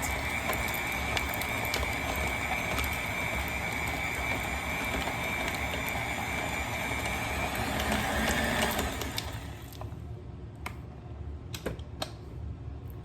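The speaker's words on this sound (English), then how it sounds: "I'm going to go ahead and give it a little whirl before I add my sugar, just to break it apart" An electric mixer whirls a pound of butter in a bowl with a loud steady mechanical whine for about nine seconds, then stops, leaving scattered clicks and knocks.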